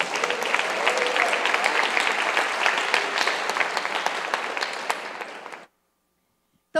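A church congregation claps in a dense, steady burst of applause for over five seconds, then it stops abruptly into silence.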